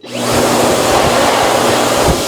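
A Dyson hand dryer starts up and blows a loud, steady roar of air from close by, sustained without pause and with no talking.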